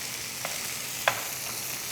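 Diced tomatoes, jalapeño, whole cumin seed and salt cook in a pan with a steady, even sizzle. One or two faint clicks of a utensil sound over it, and no one speaks.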